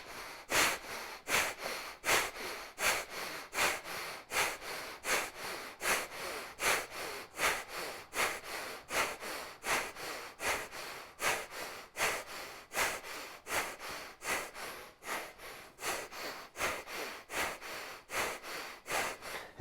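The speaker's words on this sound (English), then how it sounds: "you will begin breath of fire." Rapid rhythmic nasal breathing of the Kundalini yoga breath of fire, taken lying in stretch pose with feet and head raised, a steady fast pump of sharp exhale puffs repeating evenly throughout, close and alone.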